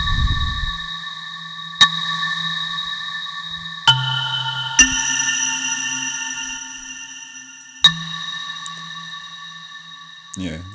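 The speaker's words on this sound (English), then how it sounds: "Yeah, this is like a fake reverb," Sustained electronic synth tones change pitch every couple of seconds, each change marked by a sharp click, with a ringing echo-like tail behind the notes.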